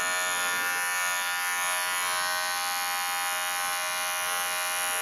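Electric clippers run steadily with a continuous high buzz, close and loud, while trimming the fur on a dog's feet and pads during a round-style foot groom.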